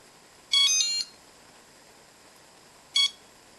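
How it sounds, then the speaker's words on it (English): A brushless motor ESC with no input signal emits electronic beeps: a half-second warbling tone, then a shorter beep about two seconds later, clear and close against near silence. "the continuous beeping that we're getting, it's telling us it doesn't see any signal"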